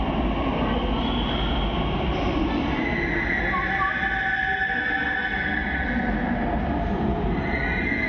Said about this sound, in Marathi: ही बघा येते आपली ॲक्वालाईन मेट्रो